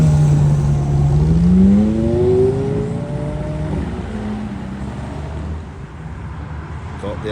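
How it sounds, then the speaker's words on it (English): An older Ferrari at a supercar arrival event gives a loud, close engine note that climbs in pitch as it revs, then settles into a steady rumble with traffic noise around it. "Much prefer the older Ferraris to the new ones, just because they don't sound like this anymore."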